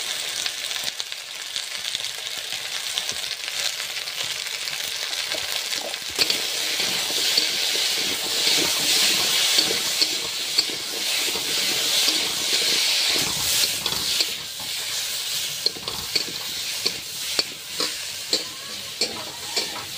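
Taro pieces fry in hot oil with salt and turmeric, giving a steady close sizzle and hiss broken by repeated scraping stirs of a spatula, no voices.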